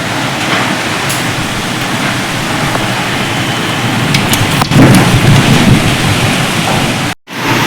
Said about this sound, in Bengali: প্রচন্ড জোরে ঝড় বৃষ্টি হচ্ছে এখানে।